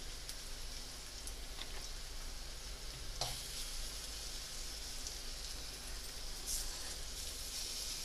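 Garlic and chili paste cooks in a pan for dry spiced okra, giving a steady soft sizzle and frying hiss with an occasional stirring scrape, close and low, with no talking.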